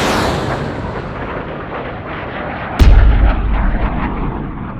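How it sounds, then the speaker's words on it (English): A supersonic jet breaking the sound barrier: one sharp, loud sonic boom cracks out midway over a steady rushing rumble, then a deep low boom lingers and fades. "That's a supersonic jet breaking the sound barrier."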